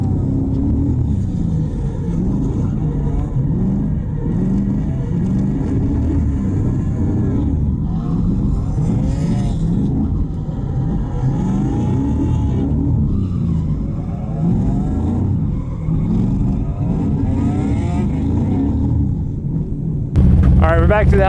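A go-kart engine drones and revs steadily while drifting on a kart track never drifted before, loud and continuous from onboard, with a voice talking over it and a louder burst at the end.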